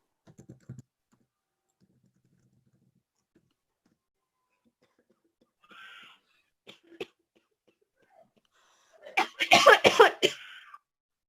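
A person coughing a few times in a quiet room, with a loud burst of harsh coughs near the end and faint keyboard tapping and small noises earlier.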